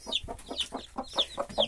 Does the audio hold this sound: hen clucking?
yes